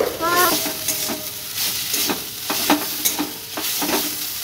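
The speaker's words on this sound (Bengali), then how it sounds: "এদিকে আমি শাকটা ভেজে নিচ্ছি। এটা হলো নোটে শাক ভাজা।" Note greens (saag) frying in a pan, a steady close sizzle broken by repeated scraping strokes of a spatula stirring, with no voices.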